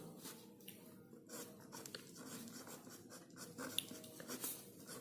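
A quadratic equation is written by hand in a classroom lesson, a close, quiet, continuous scratching of strokes with brief lifts between them and no talking.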